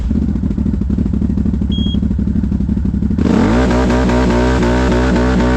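A CFMOTO with its limiter deleted idles with a rough clatter, then snaps to full throttle in a loud, close rising rev as it accelerates hard.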